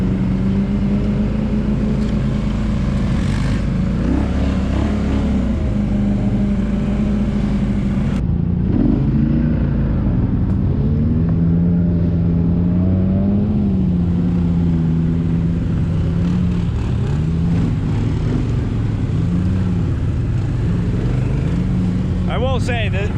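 A Can-Am Sportsman XP 1000 ATV hums along on a trail ride, its engine steady and close with shifting pitch as the throttle changes, while a rider talks over it.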